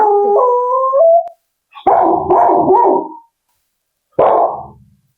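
A playful pet dog howls in a drawn-out rising cry, then lets out a burst of close, loud barks, and after a pause gives one more bark that trails off.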